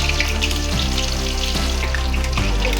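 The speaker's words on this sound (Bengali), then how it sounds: "পেঁয়াজটা একদম লাল লাল করে ভাজা হয়ে গেছে" Onions frying in oil in a pan, a steady dense sizzle with faint bubbling and occasional soft stirring knocks, close and continuous with no talk.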